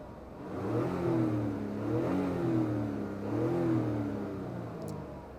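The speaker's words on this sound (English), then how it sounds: "Like an inline six is usually very balanced and sings, like it gets up to revs very smoothly, whereas this, it kind of just sounds a bit harsh in the higher RPM." A 2025 Mazda CX-60's inline six engine revs up and down from inside the cabin, its steady droning tone rising and falling in pitch with a slightly harsh edge at high RPM.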